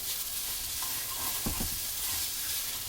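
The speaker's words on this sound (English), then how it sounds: "So we're just going to keep tossing, keep frying" Lo mein noodles tossed and sizzling in a hot pan, a steady frying hiss with a few soft scraping stirs in the middle, no voices.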